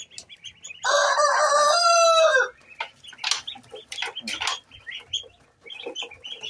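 Rhode Island chickens are heard at a pet shop: one rooster gives a loud, near crow lasting under two seconds, then hens keep up a busy mix of clucks and squawks.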